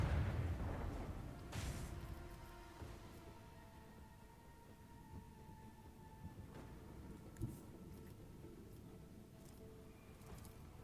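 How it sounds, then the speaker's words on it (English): Macro cannons fire in Warhammer 40,000: Rogue Trader: a heavy opening boom, then a second blast and scattered deep thuds under a sustained low rumble and faint tones, fairly quiet overall. "Macro cannons, open fire!"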